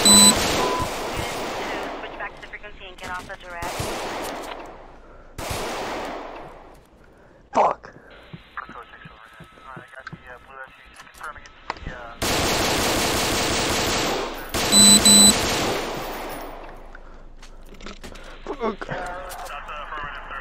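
Gunfire at a police station: sharp, loud bursts of rapid shots in several volleys, some close and some sustained, mixed with shouting voices and commotion between bursts.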